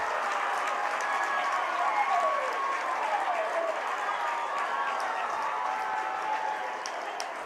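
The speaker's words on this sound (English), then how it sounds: "There are very few things that are as enjoyable as a crowd at a baseball game" A high school baseball crowd at Lehi versus Timpanogos roars and claps after a run scores, a dense, steady wash of cheering and applause that holds at full strength for several seconds before easing slightly at the end.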